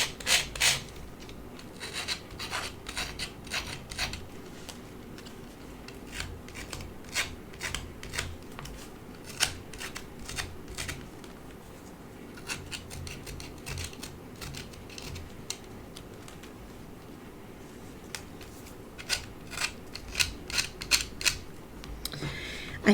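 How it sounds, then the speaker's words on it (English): Light rasping scrapes of an X-Acto knife blade distressing the edges of a paper journal cover, coming in repeated short strokes and bursts, close and fairly quiet, with no talking. "Because I've attached it and I'm distressing afterwards, I'm going to use a X-Acto knife"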